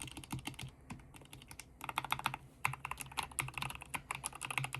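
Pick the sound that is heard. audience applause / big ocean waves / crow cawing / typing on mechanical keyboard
typing on mechanical keyboard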